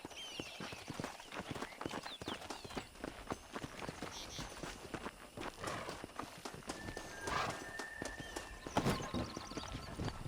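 Stagecoach horses' hooves clip-clop steadily and close, with a horse whinnying briefly near the end, in the game Red Dead Redemption.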